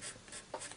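Pen strokes on paper as notes are written into a music composition exercise, a soft close scratching in short quick bursts with no talk.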